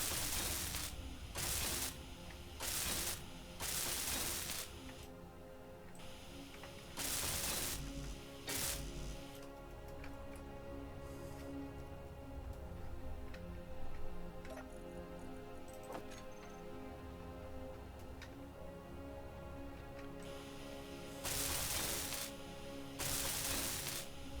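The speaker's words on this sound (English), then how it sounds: "Right, let's get some of this welded up." In the Space Engineers game, a welding tool fires in repeated short, hissing bursts, some rapid and stuttering, over a quieter background hum and tones, with a long gap in the middle before the bursts resume.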